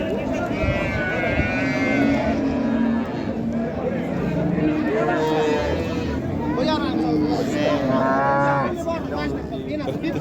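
Cattle at a livestock market, with several loud, close moos and lowing calls over a busy crowd, while people bargain in the foreground.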